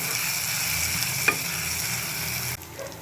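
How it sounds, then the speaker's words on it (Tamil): Watermelon rind sautéing in a pan with turmeric powder gives a steady close sizzle. A brief clink of the spoon sounds midway, and the frying drops quieter near the end. "நல்லா பச்சை வாசனை போகிற வரைக்கும் வதக்கிக்கோங்க."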